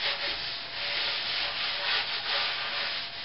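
Steady rubbing strokes of a cloth wiping excess finish off an elm wood slab, close and continuous with a rhythmic swish, no speech.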